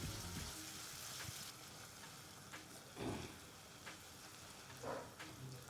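A whole chopped onion frying in hot oil with green chillies and curry leaves: a quiet, continuous sizzle broken by a few soft stirring scrapes and bursts of spatter.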